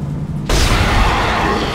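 Gunfire in the sci-fi horror game Dead Space bursts in suddenly and loudly after a quiet moment, then continues as a dense, sustained roar of noise. No talking is heard.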